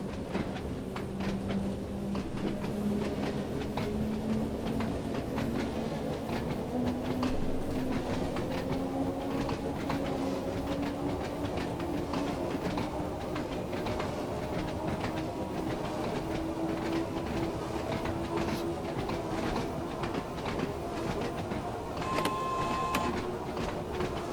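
Isle of Wight line train in Train Sim World running steadily, with a constant rolling rumble, rhythmic rail clatter and a slowly rising motor whine as it gathers speed, plus a brief beep near the end.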